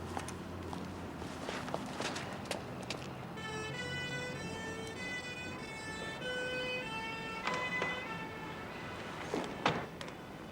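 An ambulance siren wails in a repeating pattern, fairly distant, while footsteps and a few sharp knocks sound nearby.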